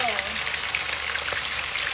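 Continuous crackling sizzle of fish frying in hot oil in a pan, steady and close.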